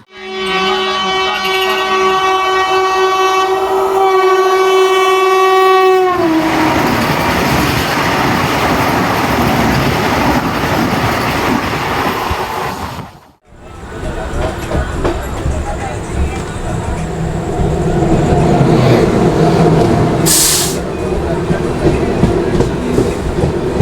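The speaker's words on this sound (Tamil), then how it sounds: "நாக்பூர் வந்தே பாரத் எக்ஸ்பிரஸ் ஓவர் டேக்கிங்காக இப்போ நம்மளை ஓரம் கட்டுறாங்க" A Vande Bharat Express overtakes a halted Kongu Express train on the Howrah–Mumbai line in India, opening with a loud sustained multi-tone horn, then a roaring rush and rapid rail clatter close by, a brief dip, and more rolling clatter.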